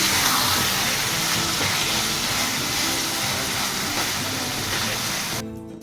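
Taro and chickpeas frying in a pan for a vegetarian taro-leaf dish make a steady, close, loud hiss and crackle that runs unbroken, then drops off abruptly at the very end.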